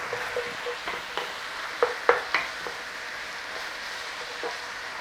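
Onions fry with minced beef in a pan, giving a faint, steady sizzle broken by a few soft scrapes and stirring knocks near the middle, with no voices.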